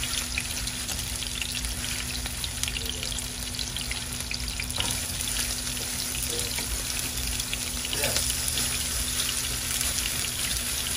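Salmon marinated in lemongrass fries in a pan with a constant dense hiss and crackle, steady and close throughout, with no talking.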